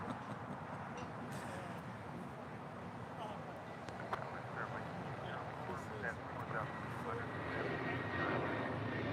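An airliner at LAX, on runway 25 right, takes off with a loud continuous jet engine roar that builds slightly near the end, heard from nearby on the airfield.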